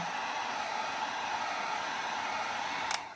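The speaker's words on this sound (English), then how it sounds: "This is all I would do with the heat gun." A heat gun blows a steady, even airflow over a freshly poured acrylic-paint resin coaster, a smooth continuous whoosh that stays close and constant, ending with a brief click as it shuts off.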